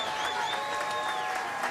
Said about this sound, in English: can we have a round of applause for these 2 warriors?